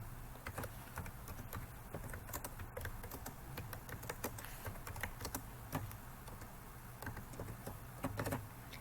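A comment is typed on a computer keyboard in a continuous run of faint, irregular key clicks over a low background hum.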